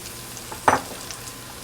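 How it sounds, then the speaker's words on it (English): Mirepoix vegetables and garlic hit a hot roasting pan with a single short, bright sizzle burst that fades quickly into quiet. "Add your mirepoix over with the garlic."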